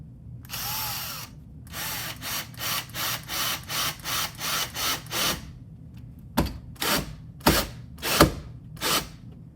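A cordless drill driving a screw into a door hinge with a Craftsman bit, running in a long burst and then a string of short, rhythmic pulses, followed by several sharp clacks, close and loud with no talking.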